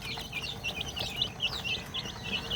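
Chicks peep in quick high repeated calls over soft clucking from hens in a backyard, close and fairly faint with no talk.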